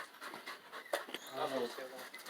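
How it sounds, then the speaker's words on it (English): A rescue dog pants softly with quick breathy puffs and a faint whimper, mostly buried under people talking close by. "She's a dog."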